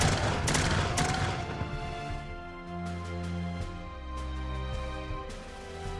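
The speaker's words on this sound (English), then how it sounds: "The Missourians level their muskets and open fire." Militia muskets firing in a volley during an 1838 Missouri battle, a dense cluster of sharp cracks at the start followed by scattered booms under a sustained dramatic music bed.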